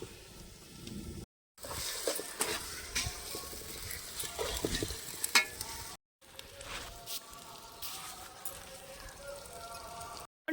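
Ginger, garlic and cumin paste frying with onions in a large pot over a wood-fired stove for chicken curry, a close crackling sizzle with stirring scrapes, interrupted by brief silent gaps.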